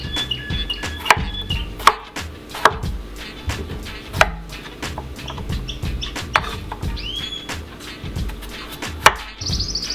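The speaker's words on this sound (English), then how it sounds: "I'm going to be dicing the potatoes now." A knife dices potatoes on a cutting board for a Jamaican vegetarian curry stew, giving a string of close, sharp chopping knocks at an uneven pace, with faint birdsong in the background.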